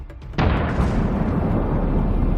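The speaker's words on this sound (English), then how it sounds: "The FPV drone hovered over it, and taking aim, it delivered a strike that caused a powerful explosion." A tank blows up after an FPV kamikaze drone strike: a sudden heavy blast bursts in, then a loud sustained roaring rumble of fire and fuel carries on without pause.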